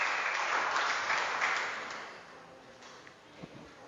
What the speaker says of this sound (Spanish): entonces apláudale al Señor.